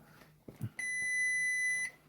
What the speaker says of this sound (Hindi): सबसे पहले मैं बज़र मोड पे। तो बज़र मोड पे यूं ही मीटर हमारा आएगा तो हमें ये बताएगा।